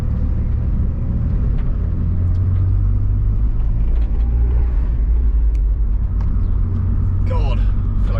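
A Nissan Primera P11 with an SR20VE VVL engine driven hard, a loud continuous engine roar and road rumble from inside the car that holds throughout, with brief background voices.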